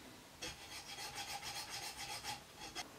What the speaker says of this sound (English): When I clean up the cast here, I use two different files, one that is fairly coarse and a finer one.